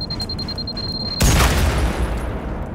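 A grenade goes off in a video game: one sudden loud, deep boom partway through that rumbles and slowly fades, following a quieter stretch of game ambience with a faint steady tone.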